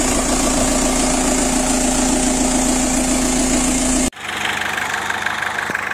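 A Renault Clio 1.9 diesel engine idles with a loud, steady, clattering rumble for about four seconds. It then cuts off abruptly, leaving quieter background noise.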